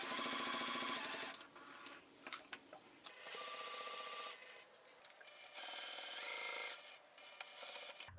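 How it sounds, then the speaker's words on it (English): A sewing machine stitches along the sides and bottom of a fabric trifold wallet, running in fast whirring bursts broken by short pauses, close and steady with no speech. "you want to sew following the existing top stitching line. You want to sew the sides and the bottom."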